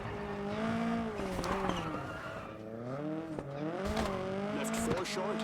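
In the rally game WRC 10, a car slides through a handbrake turn, its tires squealing in wavering, rising-and-falling tones over the engine's drone, while a voice talks over the driving.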